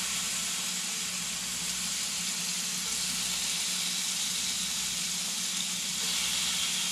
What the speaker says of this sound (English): Oh yeah, hear the sizzle.